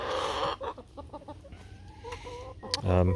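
Chickens in a backyard run converted from a playhouse cluck in short bursts, then one lets out a loud crow near the end, close and clear against a quiet background.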